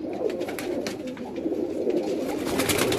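Low, soft cooing of a grey pigeon repeats close by over a gentle background hiss, with no talking, in hot weather in Multan, Pakistan.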